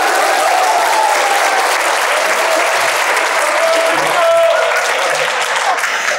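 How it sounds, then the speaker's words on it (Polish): Loud, sustained audience applause at a club presentation in Wrocław, dense even clapping filling the room from start to finish with a few faint voices underneath. "Brawa dla Krzysiu."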